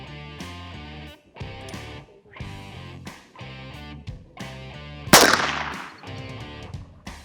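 A single sharp, loud crack from a .22 Magnum rifle fired at a target, with a fading tail, heard over steady repeating background music.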